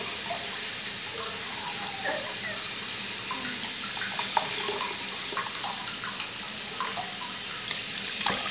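Tap water runs steadily while someone washes their face with butter on their hands, a continuous close splashing hiss with small drips and hand splashes throughout.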